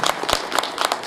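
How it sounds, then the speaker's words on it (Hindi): Audience applause for a company CMD at an event, a short burst of clapping from a crowd with several sharp peaks, fairly loud and close with no voices. "जोरदार तालियां"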